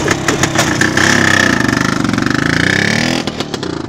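An IZh Planeta motorcycle engine runs close by, with sharp blips of throttle and then a sustained rising rev that drops off before a few more quick pulses, loud and alone.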